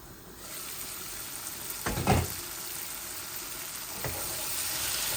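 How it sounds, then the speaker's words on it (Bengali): Diced tomato and potatoes, with frozen tomatoes among them, frying in a pan for a pabda fish curry: a steady close sizzle throughout, broken by a couple of short scraping stirs. "আমার একটা টমেটো আর দুইটা আলু ওই গেছে ভাজা ভাজা"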